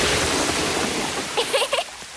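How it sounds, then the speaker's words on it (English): Cartoon water gushing from a toilet, sink and ceiling, a dense loud splashing rush that fills the moment before easing slightly under brief voices. "There's a fountain coming out of the toilet. There's a waterfall coming out of the sink."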